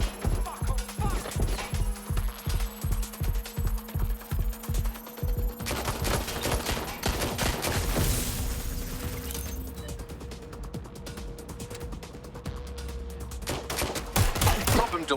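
Gunfire in the Watch Dogs Legion video game: a rapid run of evenly spaced shots over the first five seconds, then mechanical clatter, scattered bursts and steady background noise, loud and close with no one speaking.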